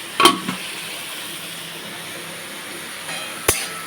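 Boiled peas frying in a pan for ghugni, a soft, steady sizzle with a couple of sharp clanks of a utensil against the pan at the start and near the end.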